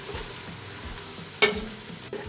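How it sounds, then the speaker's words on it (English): Pork sautés in a hot pan with a faint, steady sizzle, a sharp clatter of the utensil midway and a small knock near the end, quiet and without speech. "Get this pork starting to get sauteed."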